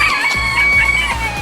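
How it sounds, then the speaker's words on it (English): Chickens and roosters crowing and clucking close by throughout, with bright repeated calls layered over one another and no talking, in the outdoor setting around a Mikasa Model 75H gas-powered tamper under repair. "the chickens and roosters are all around us messing with us"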